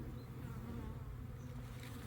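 A dense, low buzzing of many honeybees in a five-frame nucleus hive, continuous and close.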